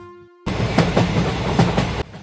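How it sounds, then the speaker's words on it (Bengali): A fast-running train sound effect from a narrated rural Bengali ghost story cuts in abruptly, loud and close, with rhythmic clickety-clack wheel beats over a steady rumble for about a second and a half before stopping suddenly. "এবার ট্রেন জোরে চলতে লাগলো"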